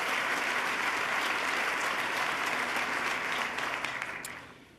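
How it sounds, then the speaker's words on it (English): Sustained applause from a large crowd for New York's governor at a State of the State address, dense and even before tapering off near the end. "let's give him another round of applause"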